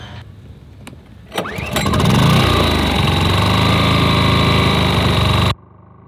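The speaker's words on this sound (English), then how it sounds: "I put the generator just outside behind the DJ setup." A gas-powered generator set just outside behind a DJ rig starts with a few sharp clatters, then settles into a loud, steady engine drone that runs unbroken for several seconds before cutting off abruptly.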